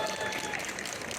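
A convention crowd at a Teen Titans panel breaks into dense, continuous applause that fills the hall evenly, with a murmur of voices mixed underneath.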